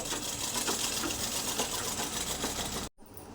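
A sewing machine runs a long stitch to join fabric, giving an even, quick rattling whir for about three seconds before cutting off abruptly. No one speaks over it.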